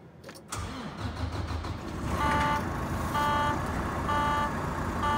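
A Volvo VNR semi truck with an I-Shift automatic fires up: a brief cranking catch, then the diesel settles into a rumbling idle that grows louder, with faint chime-like tones sounding over it near the cab.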